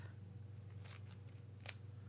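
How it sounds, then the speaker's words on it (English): Scissors snip through paper during a craft activity, a few quick, quiet cuts sounding close over a low steady background hum. "I'm going to use my scissors. I'm going to cut out"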